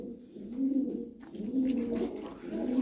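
Lahore pigeons cooing close by, soft low rolling coos repeating roughly every second, steady and alone with no talk.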